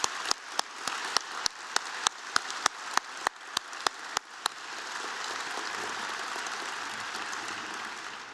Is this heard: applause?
yes